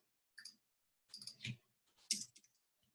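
Several quiet computer mouse clicks while working in Adobe Photoshop, coming as three small bursts of sharp clicking close by, with no talking in between.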